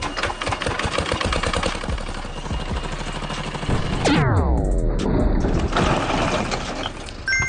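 A tractor engine runs with a loud, chattering, rapidly pulsing mechanical drone; midway a sharp burst and a descending whine cut in before the steady racket resumes.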